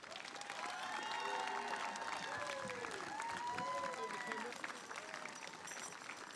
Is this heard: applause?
yes